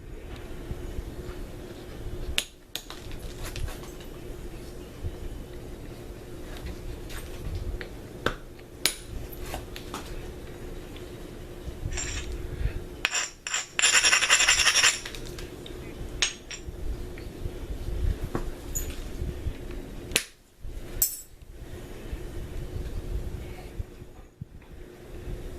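Stone knapping on a bifacial preform, the edge freehanded with sharp clicks and taps scattered irregularly through the clip, some close and crisp, with a brief louder scraping burst midway.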